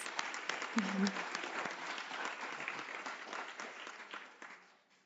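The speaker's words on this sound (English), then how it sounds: "let's give a big round of applause to our speakers" A conference audience at a World Health Assembly side event applauds the speakers, a sustained, even round of clapping from many hands that fades toward the end, with a brief voice near the start.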